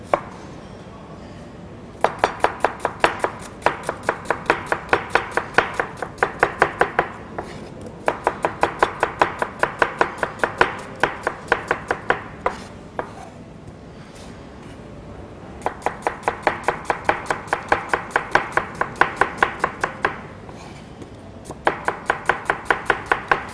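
A knife chops onion on a board in a Kurdish home kitchen where a chef prepares a Ramadan soup: rapid, steady close-up taps in long bursts separated by short pauses, with no talking.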